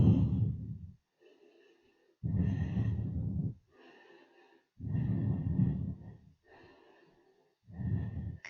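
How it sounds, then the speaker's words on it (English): Slow, deep breathing during a vinyasa yoga class: long audible inhales and exhales alternating in a steady rhythm, close and clear, with no talking. "Breathing."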